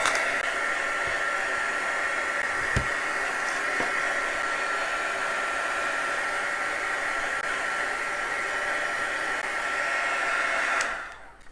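A heat tool or dryer blows steadily at close range while setting paint on a mixed media book cover, a constant loud whooshing hum that cuts off abruptly near the end.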